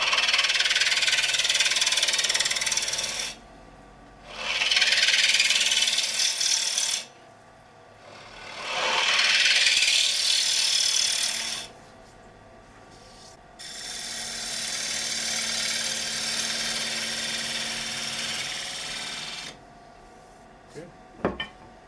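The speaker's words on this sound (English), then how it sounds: "This is ball gouge. It's running at 1180 RPM." A wood lathe runs at 1180 RPM while a ball gouge cuts a small shallow plate, bursts of loud, hissing scraping alternating with quieter stretches of motor hum.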